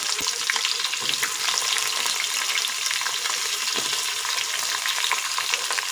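Onions fry in hot ghee and oil for a baby jackfruit biryani, a dense, loud and continuous crackling sizzle up close with faint stirring and no voices.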